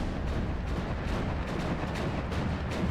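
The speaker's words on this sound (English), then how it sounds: "We got another 57mm gun up here. I'm not sure what he's shooting at, though." A 57mm gun firing in the Steel Division 2 war game, a dense rumbling barrage of booms and cracks at moderate level with repeated impacts, no talk.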